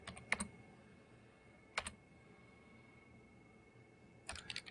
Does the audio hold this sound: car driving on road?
no